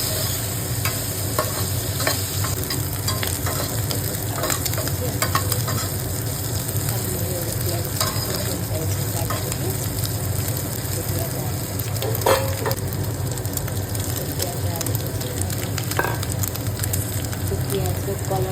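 Cumin seeds and onions frying in mustard oil in a pan, a steady loud sizzle with scattered pops and occasional scraping as the mix is stirred, faint talk underneath.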